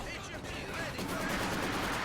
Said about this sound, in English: Oh, what's this machine gun doing?